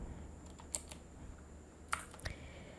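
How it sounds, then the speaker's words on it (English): A computer keyboard tapped in a few scattered light keystrokes while searching for Wix Bookings, faint and close over a low steady room hum, no speech. "click on the search apps box and type here Wix Bookings and search for it"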